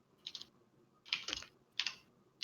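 Three quick bursts of typing on a computer keyboard during a tabletop roleplaying game session, clustered clacks separated by short pauses, close and moderately loud.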